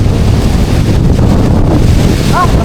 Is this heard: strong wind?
yes